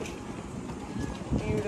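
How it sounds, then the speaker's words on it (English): Wind gusts buffet the microphone on a hotel rooftop by a pool overlooking the sea, a steady rough rumble with a stronger gust near the end. "Yeah, it is a little windy."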